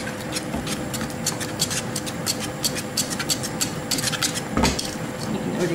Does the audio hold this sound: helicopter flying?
no